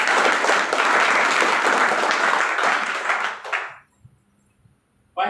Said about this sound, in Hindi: एक बार जोरदार तालियां होगी।